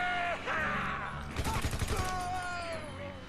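Rapid gunfire from hillbilly enemies in GTA V Sandy Shores survival, a short crackling burst in the middle, under someone talking throughout and steady game background noise.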